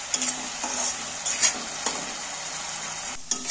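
Tomato, ginger and garlic frying with spices in oil, a soft sizzle under scraping stirs of a spoon against the pan, with a few sharp clinks near the end.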